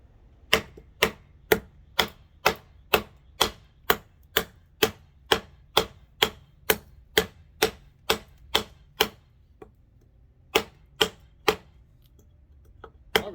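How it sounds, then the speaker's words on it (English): Repeated blade chops of a TOPS Vtac Norseman knife biting into wood, about twenty sharp, evenly spaced strikes at close range with a brief pause near the end before a few more. "Let's chop into this. Let's do a little bit of chopping here."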